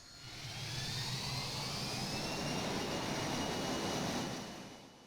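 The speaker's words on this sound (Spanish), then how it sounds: "Los motores rugen, y el avión comienza a ganar velocidad por la pista" Jet engines of an airliner roar at takeoff on the runway, a broad, steady rushing blast with a faint rising whine that swells in and fades at the end.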